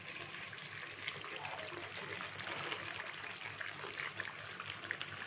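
Water runs continuously while a bowl is rinsed, a steady close splashing stream from a tap, with faint background speech underneath.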